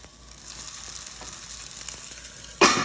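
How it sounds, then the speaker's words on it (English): Sausage hits a hot buttered skillet, a steady close sizzle throughout that swells into a sharp, loud hiss near the end as the meat lands, with no talking. "All right, we have a skillet, hot, buttered. We are gonna put the sausage in first."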